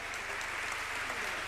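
Audience applause at the closing plenary of the 4th International Jewish Education Meeting, honoring the organizing team: a steady, dense wash of clapping filling the hall, loud and continuous throughout.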